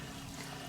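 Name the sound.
dirty water running out while panning for gold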